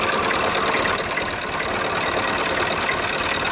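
Tractor engine running hard while stuck in snow, with dense, steady broadband roar and a rough, knocking idle texture throughout, loud and close with no pauses.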